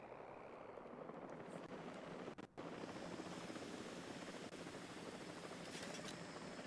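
A helicopter in the dinosaur park game Jurassic World Evolution 3 gives off a steady, faint rotor wash and whirring drone that continues throughout.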